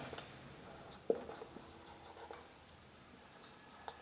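Pen writing on paper while working through an accounting problem, a faint close scratchy scribble with small taps, steady and quiet with no talk.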